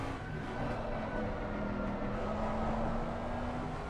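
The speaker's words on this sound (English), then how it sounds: "I think the motor engine sound is really loud here when I get in the cockpit" Mustang GT3 race car engine heard from the cockpit in a racing game at Indianapolis, a steady loud drone with a slowly rising tone, continuous and close throughout.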